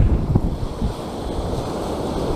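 Ocean surf rolling onto South Beach at Great Yarmouth, a steady wash of breaking waves with wind noise buffeting the microphone, loud and continuous with no voices.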